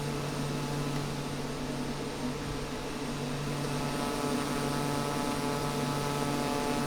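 A Pilatus PC-12 turboprop drones steadily during takeoff in MSFS 2024, its engine a constant, even hum with a strong tonal whine and no voices over it.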